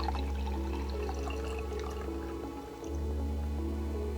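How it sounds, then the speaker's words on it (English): Liquid is poured into a jar in a slow, faint trickle with small splashes, over a steady low hum that dips briefly and then returns. "You're gonna take your jar, and you're just gonna pour it into it, trying not to spill any of it."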